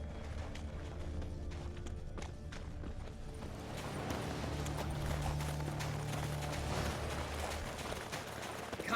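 Horse hooves clip-clop steadily in Witcher 3, an enormous horse moving at a brisk pace, the rhythmic strikes sitting under a continuous bed of game music and ambience.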